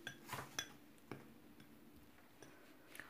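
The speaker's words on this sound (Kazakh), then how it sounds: "Және оны жақсылап қасықпен араластыратын боламыз." A spoon stirs flour with baking powder and other dry ingredients in a bowl for a sponge cake, making sparse light clinks and ticks of metal against the bowl in a quiet room.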